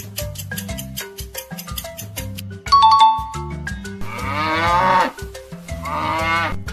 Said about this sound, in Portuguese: Se você respondeu que esse é o som da vaca,